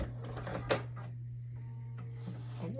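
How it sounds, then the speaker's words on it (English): A sewing machine stitches a seam on a tiered maxi dress, running as a steady hum under a low constant drone, with faint mechanical ticks and a brief louder clack midway. "Keeping tension on the seam as I sew."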